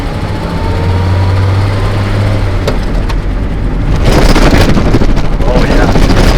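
A 1941 Chevy Coupe project car pulls along in second gear, its engine droning steadily under heavy wind and road rumble that grows rougher and louder about two-thirds of the way through.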